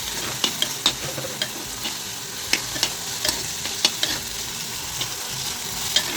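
Steady sizzling of onions and green chillies sautéing in a pan for a Kerala-style anchovy peera, with repeated sharp scraping clicks as a utensil stirs it, close and fairly loud, no voices.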